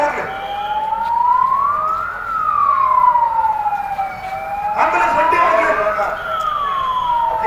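A loud wailing ambulance siren rises and falls in long sweeping cycles, steady and close, with a second tone joining partway through over traffic during a bomb-blast mock drill.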